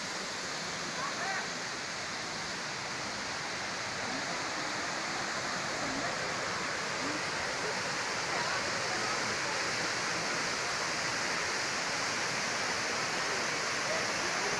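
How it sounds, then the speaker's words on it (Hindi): A constant, dense roar of falling water, like a waterfall heard from nearby, steady and loud throughout with faint voices buried underneath, at Khuludi temple in Odisha, India. "देखिए ये रहा दोस्तों झरना।"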